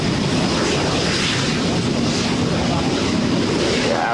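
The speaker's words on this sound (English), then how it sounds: "Here comes the Italian aircraft, which I think has got the Triple TE badge on the tail fin." An Italian Tornado jet comes in to land at an air display, heard as a continuous loud, broad roar of jet noise buffeted by wind across the whole stretch.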